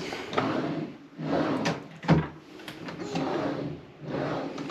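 Hotel room drawers slide open and shut in a few rough wooden scrapes and knocks, close by, with a sharp thud in the middle and no one speaking.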